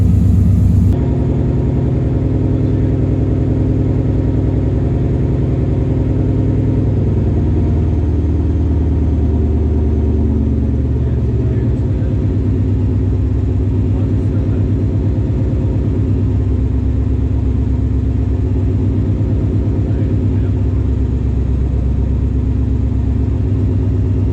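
A car's engine runs steadily and loud at close range with the clutch fully pressed, a continuous low rumble and mid-range drone with slight swells throughout, while the tires spin, no voices over it.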